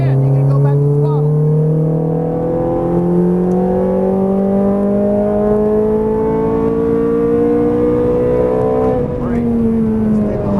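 Ferrari F430 Scuderia engine revving and pulling hard on a race track, steady rising harmonic whine through ten seconds, a brief lift and re-acceleration near the end, loud and close, with a voice speaking over it.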